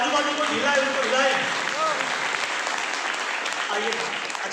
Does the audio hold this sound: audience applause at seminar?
yes